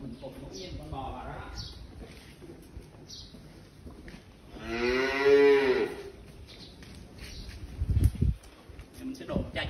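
A cow moos loudly on a farm during a cattle intravenous infusion session, one long drawn-out low call in the middle, with someone talking quietly before and after and other animal and bird sounds faintly around.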